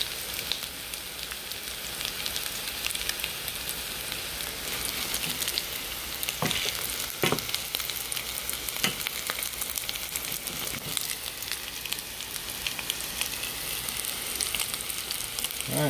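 Dungeness crab cakes frying hot and fast over medium-high heat in a pan, a loud continuous crackling sizzle with scattered sharper pops throughout, no talking.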